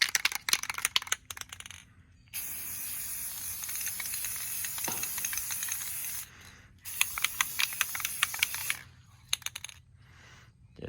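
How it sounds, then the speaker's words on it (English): Rust-Oleum crystal clear enamel sprayed from an aerosol can onto a painted concrete butterfly statue, in several long hissing bursts separated by short pauses and faint clicks. "So we spray on some Rust-Oleum crystal clear enamel."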